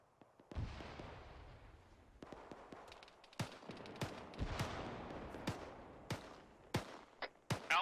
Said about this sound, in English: Alpha Bravo, do you see my tracer fire?